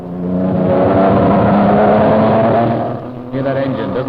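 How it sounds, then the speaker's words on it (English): A Porsche race car climbing the 1972 Knox Mountain Hill Climb in Kelowna, its engine droning loudly and unevenly, then dipping and faltering near the end as it sputters. "Sputtering a little, he's running into a little problem. Hear that engine, doesn't sound very good."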